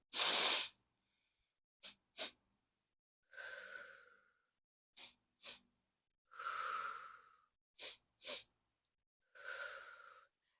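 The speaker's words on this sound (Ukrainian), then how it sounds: "Також мені допомагало швидко заспокоїтись дихання, два швидких вдохи і довгий видих." Breathing exercise for calming nerves, with pairs of two quick sharp inhales followed by one long drawn-out exhale, repeated three times, close and loud with silence between, no talking.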